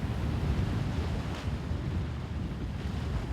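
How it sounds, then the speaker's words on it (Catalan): Strong wind buffets the microphone over sea swell along the west coast of Menorca during a kayak trip around the island, a steady roaring wash with no talking. "con mar de fondo y un fuerte viento"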